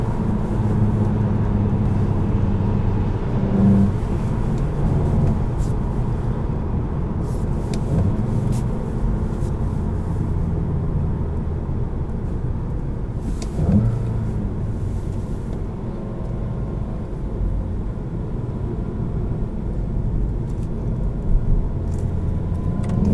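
A 2021 Volkswagen GTI SE with a manual gearbox drives along, its engine and road noise forming a steady interior rumble. A few brief bumps and shifts break the drone, and no one speaks.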